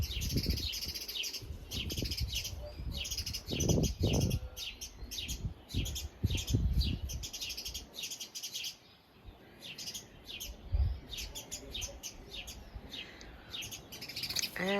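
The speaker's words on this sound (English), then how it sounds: "Hear the birds." Birds chirp and tweet steadily outdoors in the Azores, Portugal, several calls overlapping in quick bright bursts, with some low rustling and handling noise underneath.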